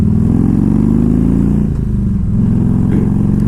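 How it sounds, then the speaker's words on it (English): A 2002 Harley-Davidson touring motorcycle with the 88 cubic inch engine idles close by, a loud, steady low-pitched rumble with an even, lumpy beat and slight clatter, running alone without talk. "So I'm showing you guys this bike runs good."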